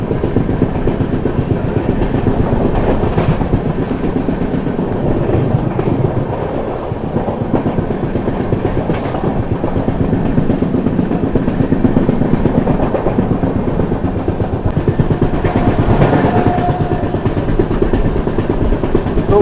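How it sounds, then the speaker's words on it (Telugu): The MGR Chennai Howrah Mail runs through Tadi station without stopping, heard from aboard as a steady loud rumble of wheels and carriages with rhythmic rail clatter, a brief rise in noise near the end, and no voices. "సో మన ట్రైన్ అయితే ఆగలేదు. తాడి అయితే స్కిప్ చేస్తున్నాం."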